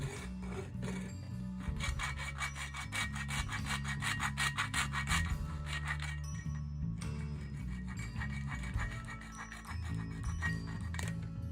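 Excess plastic is cut away from a case by hand, giving steady rhythmic back-and-forth rasping strokes, close up with no talking.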